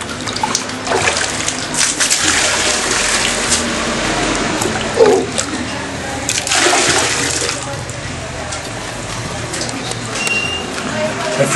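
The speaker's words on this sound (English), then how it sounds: "Oops, I think this one needs flushing" A toilet flushes in a public restroom in Alegria, El Salvador, with a broad gushing rush of water swelling twice over several seconds amid room noise and some talk.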